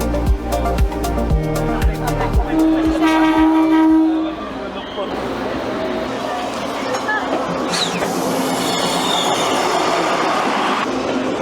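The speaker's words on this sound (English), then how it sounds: "That train came through faster than I expected." A train rushes through a lantern-selling spot in Northern Taiwan where people stand by the tracks: a loud, close roar of rolling wheels and rail clatter with a horn blast, squealing wheels, then a fading rumble under crowd voices.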